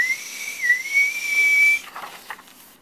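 A voice imitates a tea kettle whistling with one sustained, steady high whistle of slightly wavering pitch that breaks off into a few soft breathy hisses, heard alone and close.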